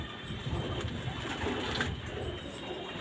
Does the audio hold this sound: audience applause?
no